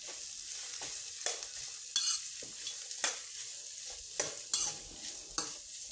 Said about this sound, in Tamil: அதுக்கப்புறம் நம்ம சின்னதாக கட் பண்ணி வச்சிருந்த பாவக்காய் சேர்த்துடலாம். இது நல்லா வதங்கட்டும்.